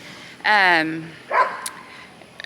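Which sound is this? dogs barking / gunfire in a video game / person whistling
dogs barking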